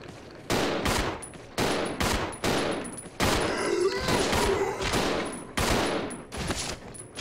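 Bursts of automatic gunfire from the survival horror game Resident Evil 0 rattle out in several loud volleys separated by brief pauses, with a voice talking underneath.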